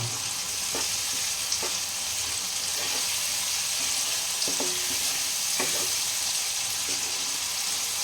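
Tomatoes and masala sizzling in a pan for an egg dal tadka, with a steady frying hiss broken by periodic scraping clicks of a spoon stirring, close and alone.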